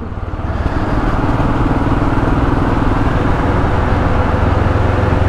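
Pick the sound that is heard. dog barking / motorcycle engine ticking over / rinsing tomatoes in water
motorcycle engine ticking over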